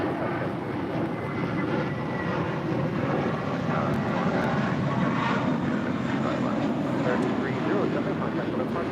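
A SkyWest airliner takes off from runway 25 right at LAX, a loud steady jet roar filling the air, with a tower controller's radio voice talking over it.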